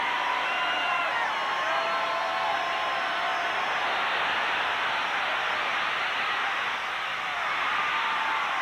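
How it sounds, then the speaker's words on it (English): Dense stadium crowd at a 1991 Peach Bowl college football game between East Carolina and North Carolina State, a loud sustained roar and groan after a missed tackle, steady and enveloping throughout. "And you could hear the groan by the crowd"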